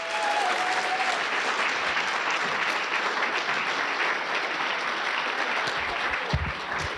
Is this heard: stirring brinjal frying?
no